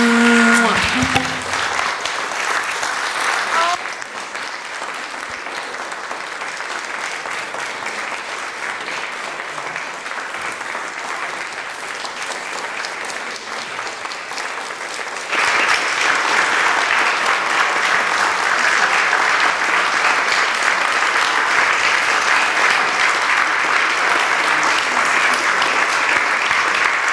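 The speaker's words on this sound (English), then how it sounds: "You know what I love about clapping?" A concert audience applauds in a long, continuous wash of clapping that is steady at first and grows fuller and louder about halfway through.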